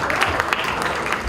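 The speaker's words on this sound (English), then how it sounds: "let's give them a big round of applause" Audience applause at a Bombay Velvet game launch event, a short burst of scattered clapping from the crowd with a low thump at the end.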